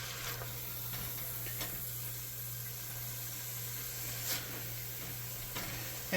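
Italian sausage sizzles in a pan for pasta fagioli, a faint, steady frying hiss with occasional soft crackles and light stirring clicks over a constant low hum, no talking.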